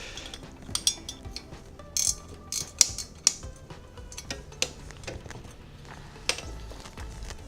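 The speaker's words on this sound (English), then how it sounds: "we've got the luxury here of having these spanners. So there's just two 12mm nuts here to remove" Spanners work loose two 12mm nuts on a car exhaust in a tight space, with sharp metallic clicks and ratcheting taps scattered irregularly, close and fairly quiet.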